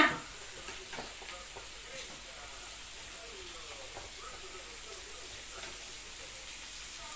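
Pork sizzles on a Thai mookata grill pan at a family meal, a steady, continuous hiss and crackle of frying that runs throughout, with a brief sharper sound at the very start.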